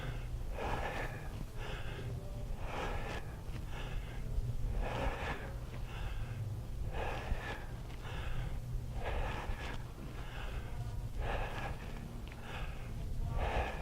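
Heavy, rhythmic breathing from someone winded after thruster exercises: about a dozen loud, close huffing breaths in a steady pattern, with no talking.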